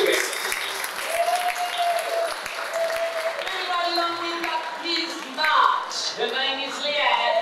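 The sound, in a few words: audience applause for Sally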